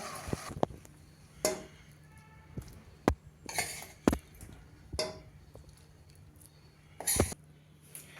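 Carrot halwa is spooned from a pot into a serving bowl. Scattered metallic clinks and scrapes of a spoon against cookware come at irregular intervals over a quiet background.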